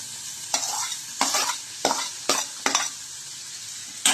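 Red and green capsicum frying with chopped onion in a pan, a loud close sizzle with several quick stirring scrapes and clanks in bursts.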